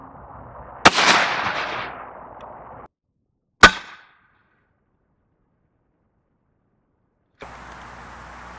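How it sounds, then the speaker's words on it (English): A Smith & Wesson 916A pump shotgun fires Winchester Supreme double-aught buckshot at close range: one sharp, loud blast with a decaying echo, then a second short crack after a pause, followed by silence. "see how this this gun patterns with this Winchester Supreme double-aught buck"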